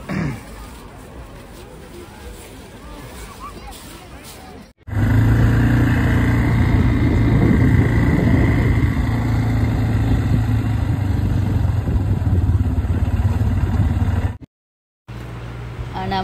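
A motorcycle engine drones steadily during a ride, loud and close with rushing wind noise, starting after a quieter opening and cutting out briefly near the end.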